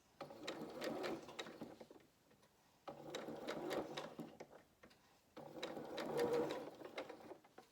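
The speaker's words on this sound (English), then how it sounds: "I'm just going to do a few stitches and then stop and just readjust my piece of work, my fabric underneath." A sewing machine stitches a curved frill edge in three short, rapid bursts of mechanical whirring and needle clatter, separated by brief pauses while the fabric is readjusted.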